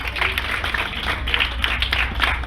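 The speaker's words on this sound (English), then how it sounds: "Big round of applause." Applause from an audience at an education institutions partnership ceremony, a steady wash of clapping lasting the whole moment at moderate loudness, with no voices over it.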